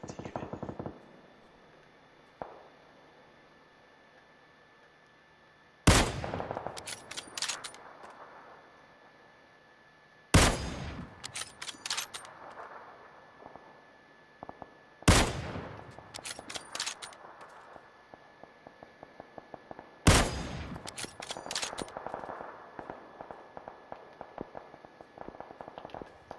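Video game gunfire aimed at the player comes as four sharp, loud shots spaced several seconds apart, each followed by a fading clatter and softer rapid pops, with quiet stretches in between.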